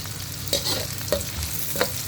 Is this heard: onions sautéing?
yes